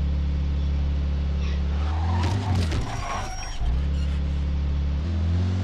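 Car in the Mafia 2 video game driving with a steady low engine drone, then a loud tire-squealing skid in the middle before the engine hum resumes.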